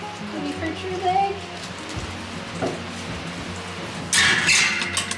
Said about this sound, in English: I think it's raining too much to take the camera